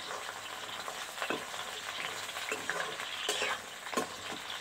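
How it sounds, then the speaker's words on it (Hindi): Sliced pointed gourd (parwal) sizzling and frying in hot oil while being stirred, a steady close crackle with several louder scraping stirs, no voices. "अब इसमें हम जो परवर है हमारा काट के रखे हैं, इसको हम इसमें डाल लेते हैं। डालकर अच्छे से इसको पूरा सुनहरा होने तक भूनेंगे"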